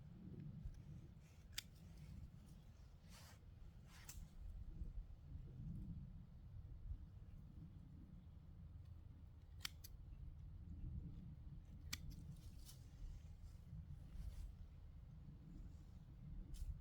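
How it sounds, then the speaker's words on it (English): Pruning shears cut through a pawpaw tree's lateral root outdoors, giving a few sharp, isolated snips over a low, steady rumble of background noise. "We're going to go ahead and cut that lateral root off"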